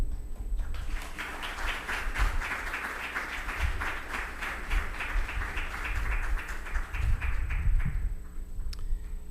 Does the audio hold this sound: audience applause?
yes